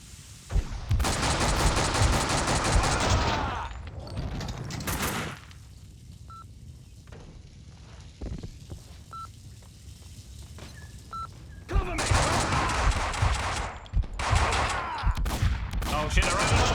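Gunfire in Max Payne 2 comes in loud clustered volleys, heavy shots at the start, a quieter stretch with faint electronic beeps, then another intense burst of shooting near the end.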